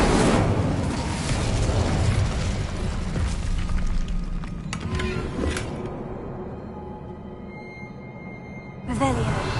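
An Incendio fire spell is cast in Hogwarts Legacy, bursting out loud with a whooshing, crackling blast that gradually fades, followed by a second sharp impact near the end.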